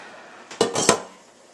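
Dipping sauce poured and spooned into a small dish beside air-fried potstickers, a few close clinks and scrapes of utensil against the dish in a short cluster.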